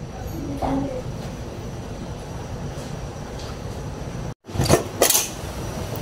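A metal lid drops back onto a pot of boiling sinigang with a short clatter and a couple of clinks near the end, after a long stretch of steady bubbling and kitchen hiss.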